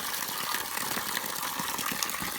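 Strong water falling and gushing, probably a waterfall or a pipe outflow, a loud steady roar of splashing flow close by with no talk.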